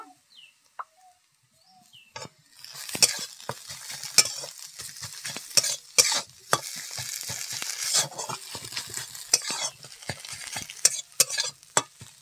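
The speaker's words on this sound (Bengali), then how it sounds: "ভালো করে মিশিয়ে নেব আলু আর ডিমটা।" Potato and egg mixture is stirred in a frying pan, with a sharp scraping of the utensil and a soft sizzle that carry on in uneven strokes after a near-silent start.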